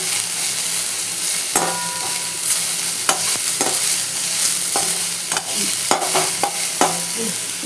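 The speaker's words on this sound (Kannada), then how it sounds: "ಸ್ವಲ್ಪ ಫ್ರೈ ಮಾಡೋದು. ಫ್ರೈ ಮಾಡ್ತಾ ಇರಬೇಕು." Vegetables fry in a pan with a constant bright sizzle, while a utensil stirs and scrapes against the metal in irregular clicks and knocks, close and fairly loud, with no talking.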